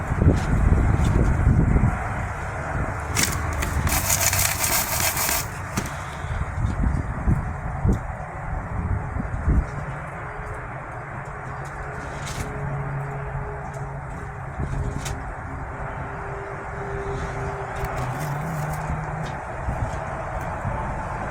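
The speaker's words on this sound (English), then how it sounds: "It's very windy" Outdoor wind gusting against the microphone, a loud rumbling buffet at first that eases into a steady lower whoosh with faint rustling movement around.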